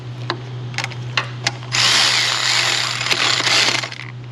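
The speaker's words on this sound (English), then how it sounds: "I can go ahead and apply some torque to these bolts and finish this housing off" Cordless power drill spins briefly several times, then runs in a sustained burst, driving bolts on a car housing during a 2.4 PT Cruiser repair; close, loud, over a steady low hum.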